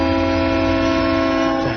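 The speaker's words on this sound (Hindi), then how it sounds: "ट्रेन की सीटी" A train whistle sounds one loud, sustained, steady tone that holds for nearly two seconds and then cuts off abruptly.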